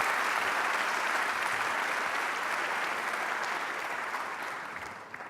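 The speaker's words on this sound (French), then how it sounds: "Je crois qu'on peut vous applaudir en effet." Sustained applause from a conference audience after a transport-industry round table, broad and even clapping that fills the room and tapers gently near the end.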